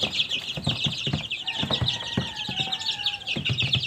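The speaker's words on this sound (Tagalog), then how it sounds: "ayan sila o oh mga sisiw pa yan one month old" One-month-old chicks peep in a steady chorus of high, rapid chirps, mixed with a few lower clucks and soft rustling nearby, close and continuous.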